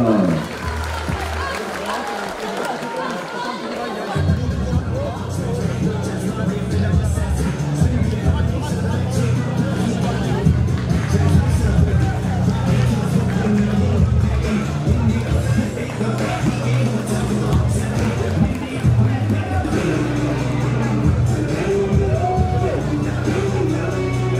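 A crowd at a savate bout applauds the fighters at the end of the second round, steady sustained clapping mixed with crowd murmur that carries on for over twenty seconds.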